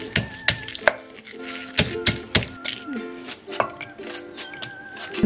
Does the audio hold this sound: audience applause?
no